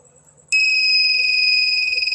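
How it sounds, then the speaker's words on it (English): A small experimental DIY vibration-triggered security alarm for vehicles, under test, switches on abruptly into a loud, shrill, steady electronic tone that holds without a break, close to the microphone. "That's the alarm. And that's actually this is just a for experiment alarm."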